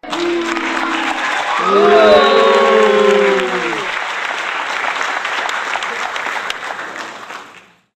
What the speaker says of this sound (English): How about a round of applause for our Edward and Bella cosplayers?